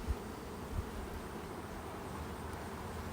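Honey bees buzz as a low, steady drone during a beehive inspection where drones are being checked for varroa mites. The hum stays faint and continuous throughout, with a couple of soft thumps near the start.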